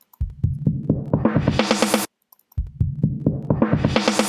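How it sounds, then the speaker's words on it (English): A filtered drum loop built from kick samples in Ableton, thumping in a steady rhythm with rising swept brightness, cutting out briefly before the loop restarts and sweeps up again. "Then I'm going to show you this drum loop in a second, which I added some filters to."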